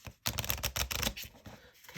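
A thick, slightly edge-chipped tarot deck is shuffled by hand, giving a short burst of crisp riffling and clicking card flutters up close, tapering off into lighter rustling.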